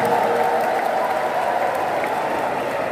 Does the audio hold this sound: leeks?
no